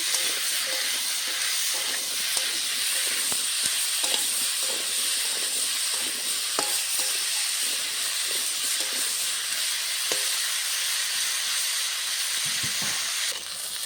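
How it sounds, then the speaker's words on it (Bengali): Turmeric powder fries in oil in a pan for a Bengali kohlrabi fish curry, giving a continuous hissing sizzle with occasional stirring clicks and scrapes, steady and close, with no talk. "হলুদ গুঁড়ো দিয়ে ভালো করে ভেজে নেব।"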